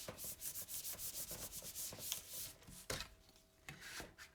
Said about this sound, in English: Burnish it down.